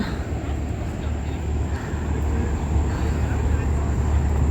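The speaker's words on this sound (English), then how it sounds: "This is the jet boat." A jet boat engine idles at a dock on the Lower Dells of the Wisconsin Dells, giving a steady low rumble mixed with wind buffeting. Faint voices can be heard underneath.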